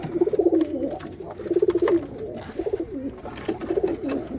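Bombay pigeons coo close by in soft, throaty bursts repeating in a steady rhythm, with a few short pauses between the rounds of calls.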